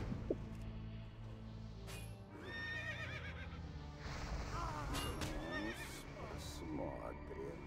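A horse neighs from a video game as a knight unit is placed, with whinnying calls over background game sounds and someone talking.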